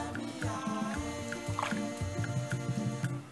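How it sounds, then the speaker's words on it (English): Goat tripe (shaki) is dipped into boiled water in a kitchen, giving close, wet sloshing and dripping sounds in irregular bursts, with light clinks of a container. "dip it in water like this."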